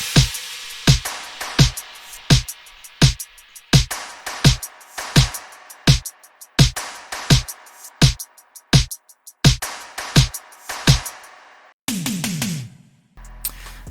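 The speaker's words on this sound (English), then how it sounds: "So all the percussion sounds like this." An 80s-style drum pattern programmed in FL Studio from sampled sounds, with steady punchy hits about twice a second over a faint static wash, ending in a short burst of a different tonal sound.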